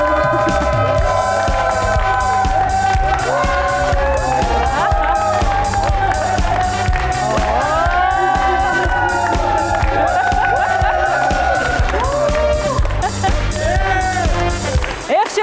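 A studio audience at a Kyrgyz TV show applauds and cheers steadily throughout, dense clapping under music, while a host speaks loudly over it.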